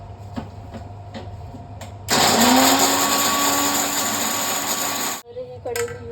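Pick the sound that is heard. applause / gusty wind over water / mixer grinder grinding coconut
mixer grinder grinding coconut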